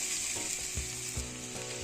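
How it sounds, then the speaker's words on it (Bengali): Tomato pieces and other vegetable khichuri ingredients sizzle in a pan while a spoon stirs them, making three or four soft scraping knocks over a steady hiss. "আপনারা এটাকে আমি 2 মিনিট ধরে ভালো করে নাড়িয়ে চাড়িয়ে নেব এবং কষিয়ে নেব।"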